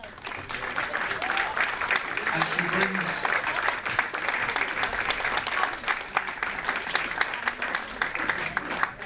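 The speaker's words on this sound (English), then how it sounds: "Do give her a round of applause" A hospitality crowd at a Tigers v Stoke City football match applauds a guest from Table 3 during a man of the match presentation. The clapping is steady and broad, with a voice talking over it.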